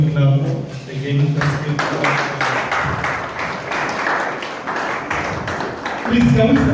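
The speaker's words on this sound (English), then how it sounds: "can we clap again?" An event crowd claps again on request, with a burst of rhythmic clapping in the middle and talking before and after.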